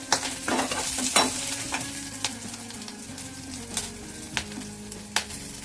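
Green chilies and garlic pieces frying in hot oil with mustard seeds, a close, steady sizzle broken by several sharp spatula clicks and scrapes against the pan, with no voices.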